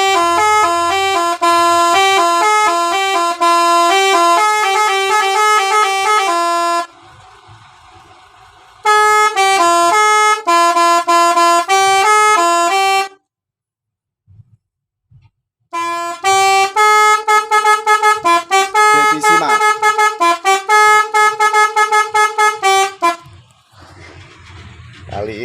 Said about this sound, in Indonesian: Kali ini cukup segini aja klakson telolet 18 nada